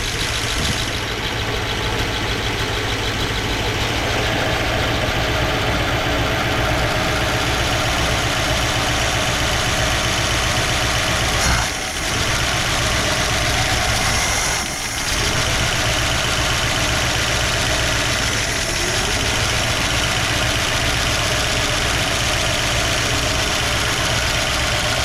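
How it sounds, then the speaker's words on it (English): An abandoned 1959 Plymouth Savoy, revived after more than fifteen years with carburetor and fuel trouble, running rough: a loud, close, uneven engine idle with knocking that continues steadily throughout and dips briefly twice. "The engine sounds absolutely terrible."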